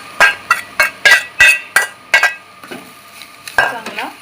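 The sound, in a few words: stirring crumbled leftover chapati into chivda mixture in pan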